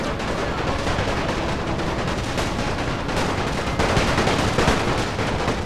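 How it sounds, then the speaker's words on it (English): Units in The Great War mod fire their guns in a continuous, crackling fusillade of rifle and machine-gun shots, with scattered heavier booms. The firing is loud and dense, with no voices. "I have 3 units firing at you"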